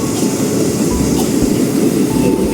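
A KRL commuter train rumbles at a station platform on the way to Manggarai, with a steady loud low roar of the cars and a faint metallic tone throughout, and no talking.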